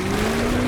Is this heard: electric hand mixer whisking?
no